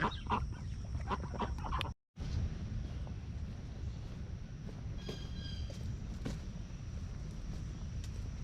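Ducks calling around a backyard pond on a summer morning walk, a steady run of clucking, quacking calls close by over outdoor background noise, with a brief dropout partway through.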